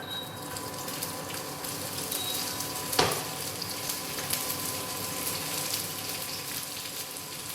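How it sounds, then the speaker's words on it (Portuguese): Mixed vegetables sizzle steadily in a hot frying pan, a continuous crackle with one sharp clatter midway and no talking. "Todos os legumes do saco juntos para dentro da frigideira."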